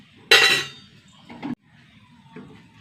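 Cooked koorka (Chinese potato) and dal being moved into a cooking pot: a loud metallic clank of pots, a smaller clatter, then a light clink, with no talking.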